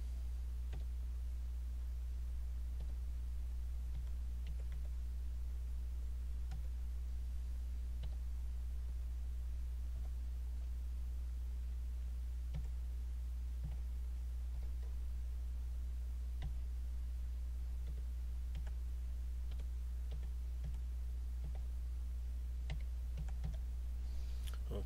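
Someone types on a computer keyboard, with sparse, irregular key clicks in short bursts over a constant low electrical hum.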